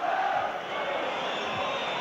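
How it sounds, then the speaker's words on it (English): Football crowd at a Nottingham Forest v Liverpool match in the closing stoppage-time moments, Forest leading 1-0, a dense sustained roar of whistling and shouting from a packed stadium, loud and continuous with no pauses. "Crowd impatient for the final whistle"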